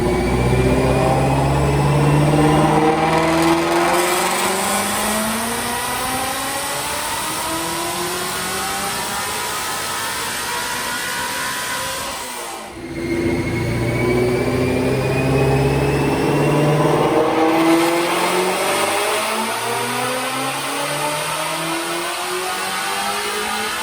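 A Whipple-supercharged 2019 Ford Mustang GT350 V8 roars through two long full-throttle dyno pulls, climbing in pitch with loud supercharger whine, briefly dropping off midway before revving up again.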